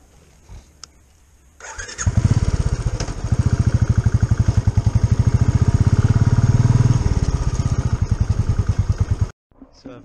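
Motorcycle engine fires up after a brief quiet, then runs loud and close with a rapid, even thumping idle for several seconds before cutting off abruptly.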